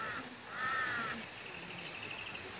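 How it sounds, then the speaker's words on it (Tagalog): A crow caws in the distance outdoors, a faint harsh call rising briefly near the middle over steady background noise, with no talking. "Ayun yung ibon, Kyle."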